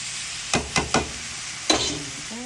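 Rice hits a hot pan already warming nutmeg, giving several sharp sizzling bursts in quick succession, then a final louder hiss that fades into steady frying.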